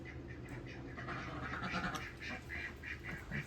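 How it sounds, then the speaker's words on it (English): Small ducks on a farm quack in a steady, busy chorus of repeated nasal calls, fairly close, heard against an outdoor background with no talking. "They got little duckies."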